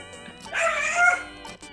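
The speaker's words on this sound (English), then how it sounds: "That's the dog." A dog lets out a single drawn-out, high wailing yelp that rises and falls, sounding almost like a peacock's call, close and fairly loud, with a couple of faint short yips after it.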